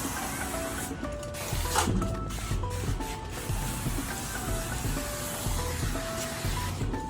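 A steady, hissing spray of soapy water from a pressurized TRÜ spray system runs continuously at close range while applying exterior window tint film, with faint mechanical whirring and brief bursts in the background and no talking.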